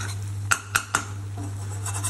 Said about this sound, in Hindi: इसमें ना चम्मच बिल्कुल मारते ही रहना एक बार भी नहीं छोड़ना नहीं तो नीचे लग जाता है